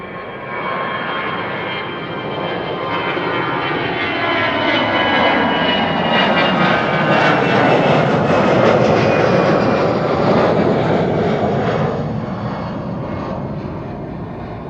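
An EasyJet airliner at Amsterdam Schiphol Airport roars past, its loud engine noise swelling toward a peak midway and then slowly fading, with no voices.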